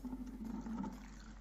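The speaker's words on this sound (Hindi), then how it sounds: "इनको बाउल में डालेंगे और अब इसमें हमने ठंडा पानी डालना है।" Cold water pours steadily into a bowl of potatoes, a soft continuous splashing and trickling, fairly quiet and close, with no voices.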